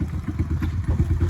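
A pit bike engine warms up, idling with a close, low, rapid chugging putter that stays steady throughout.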